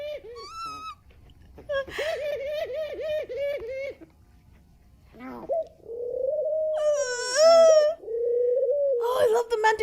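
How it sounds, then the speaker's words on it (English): Mountain doves coo in a series of soft, hollow, wavering calls, close and fairly loud, with a few higher chirping bird notes mixed in and some brief overlapping sounds. "Oh, I love the mountain doves."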